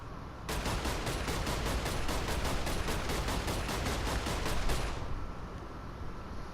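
Rapid automatic weapon fire from the video game Saints Row 4, a dense burst of evenly spaced shots lasting several seconds, loud and up close, then cutting off into a lingering noisy tail.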